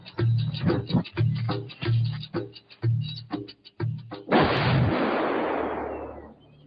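Military weapons firing during special forces training: a series of sharp repeated reports for several seconds, then a loud sustained roaring blast that slowly fades, close and strong.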